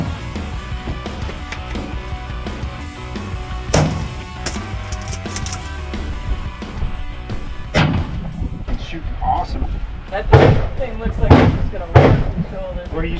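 Gunshots crack out at an outdoor shooting range in Florida, a few sharp loud reports spaced apart amid outdoor noise, with voices talking nearby.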